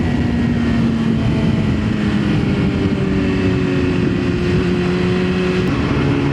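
A 1000cc hyperbike motorcycle accelerates with a loud, steady engine roar whose pitch climbs smoothly, heard close as if from the rider's position over heavy wind noise.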